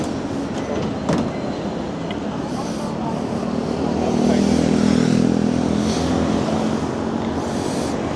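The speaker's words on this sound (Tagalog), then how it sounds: "Ayun yung train, ang ganda," A train passes through Nagasaki, a steady low rumble that swells toward the middle and stays loud, with people talking over it.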